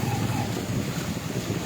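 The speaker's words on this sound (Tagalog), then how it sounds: "Pinakamalakas na bugso ng ulan ngayon. May kasama pang malakas na hangin." Heavy rain pours in a strong gust driven by wind during a trip, a dense continuous roar of rain and wind buffeting close to the microphone.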